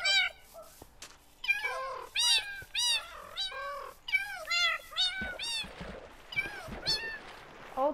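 Kittens in Minecraft meowing repeatedly, a string of high, clear mews in quick succession, some overlapping, close and fairly loud with no talk.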